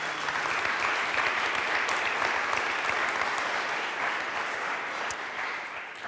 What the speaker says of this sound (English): A big round of welcome applause to John Schellnhuber.